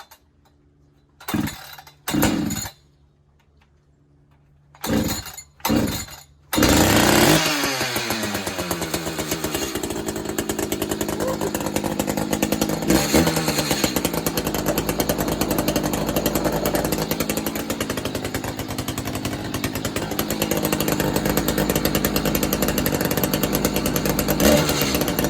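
A 590 chainsaw with a modified muffler, started cold on fuel: a few short pulls and sputters, then the engine catches and runs loud and steady at a ragged idle for the rest of the time.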